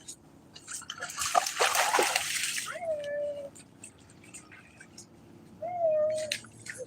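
A dog splashes through water outdoors in a burst of loud close splashing and trickling, followed by quieter dripping, with a few brief high whines or chirps in between.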